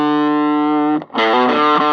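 Electric guitar through a modded Pignose 7-100 amp with its diode switched on, a held gritty chord that cuts out briefly and returns as a strummed, slightly overdriven burst, close and loud with no voices.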